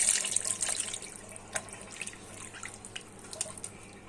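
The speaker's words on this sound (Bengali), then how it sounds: "পরিমাণ মতো পানি দিয়ে দিব।" Water trickling and pouring into a pot of hilsha fish curry in a home kitchen, a faint, uneven splashing stream with a few brief drips, heard alone at low level.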